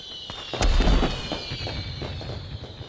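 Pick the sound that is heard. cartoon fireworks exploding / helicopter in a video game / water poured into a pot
cartoon fireworks exploding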